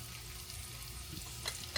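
Salmon croquettes frying in a pan give a steady, faint sizzle with a brief clatter near the end.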